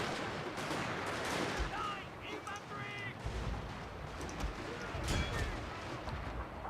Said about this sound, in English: We've got some sort of ripple of fire effect going on.